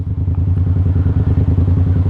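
A Yamaha MT-07 motorcycle with a straight exhaust idles close by, a loud, deep, lumpy rumble with a steady choppy pulse and rattly texture throughout.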